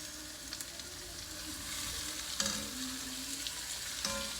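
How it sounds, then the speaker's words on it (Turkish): Shelled broad beans sautéing in a pan with onion and garlic give a steady close sizzle and frying hiss, with a few light stirring scrapes and clinks and no voices. "Bu baklamı da ekledikten sonra soğan ve sarımsağınla birlikte birkaç dakika daha bu şekilde kavurma işlemi gerçekleştireceğim."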